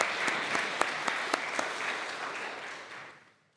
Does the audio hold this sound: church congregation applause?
yes